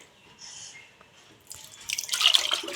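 Liquid is poured close by, starting as a faint trickle and swelling into a louder, splashy gush over the last second or so.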